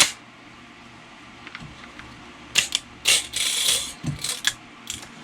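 A rifle's charging handle and buffer tube are handled, giving a few sharp metallic clicks and ratcheting snaps close by, clustered in the second half after a quiet start, with no talking.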